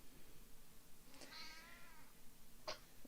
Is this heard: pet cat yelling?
yes